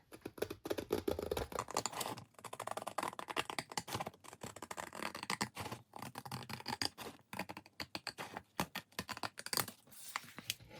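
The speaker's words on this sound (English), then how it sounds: "use my scissors and cut right along that line that I just drew" Rapid, continuous snipping and crisp crunching of scissors cutting along a drawn line through old calendar paper, close and fairly quiet, with brief pauses between runs of cuts.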